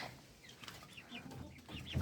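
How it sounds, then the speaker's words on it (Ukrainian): Soft clucking and chirping from chickens close by, a few short calls scattered over quiet background noise. "подивимося, що тут курочки, що тут курчатка"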